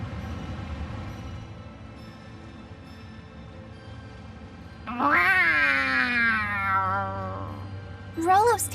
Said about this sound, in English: I never imagined I would see so many cats in my life.